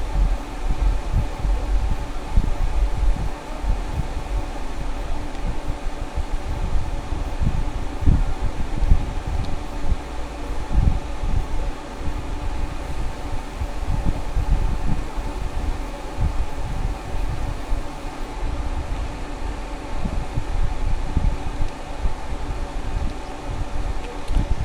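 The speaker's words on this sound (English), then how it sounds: "It's a little breezy today, but it's a hot August day. I'll take that cool breeze coming in" A cool breeze blows outdoors on a hot August day, a continuous low rumbling wind that buffets in uneven gusts the whole time, with no one speaking.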